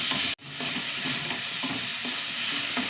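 Tomatoes and green chilies fry in a pan with a steady, close sizzle, broken by a brief dropout near the start, while soft stirring scrapes recur underneath.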